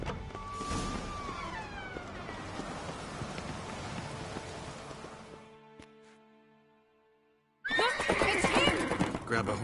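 A horse in a video game whinnies loudly over steady rain and clip-clopping hooves. The scene briefly drops to near silence, then bursts back with another loud, close whinny.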